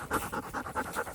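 A dog pants close by in a quick, steady rhythm, about seven breathy huffs in just over a second, with no voices.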